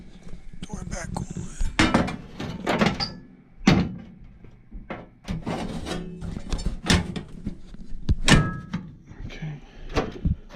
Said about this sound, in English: Door back on.